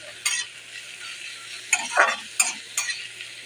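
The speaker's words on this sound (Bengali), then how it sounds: "ক্যাপসিকামটাকে দিয়ে আমি আরেকটু নেড়ে চেড়ে নেব।" Chopped capsicum gets stirred in a frying pan over a soft sizzle, with a few separate scraping strokes and light clinks of a spatula against the pan, fairly close and without talk.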